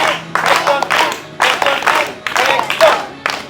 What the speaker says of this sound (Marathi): सगळ्यांच्या टाळ्या वाजून कौतुक करायचं